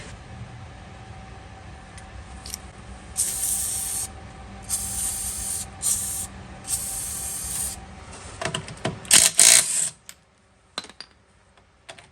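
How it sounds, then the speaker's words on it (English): Penetrating lubricant hisses from an aerosol can onto a rear suspension bolt of a Chevrolet Malibu, in several close bursts of spray separated by short pauses and followed by faint handling clicks, with no talk. "Let's lube it up before we take the wheel off so it can have some time to penetrate."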